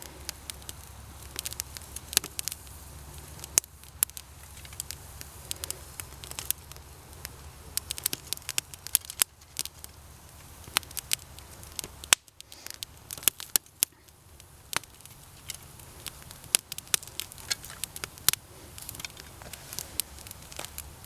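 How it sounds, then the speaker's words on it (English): A small backyard fire of damp, rain-wet sticks burns steadily, giving a dense stream of sharp pops and crackles over a soft hiss, fairly close and without talk. "the fire will burn upwards, and it'll dry some of the wetter stuff that you got as it burns"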